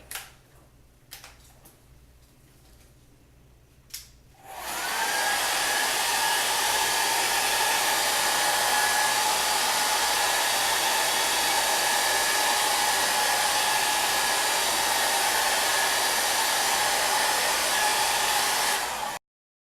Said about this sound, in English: I just have an old blow dryer with an extension cord here by my work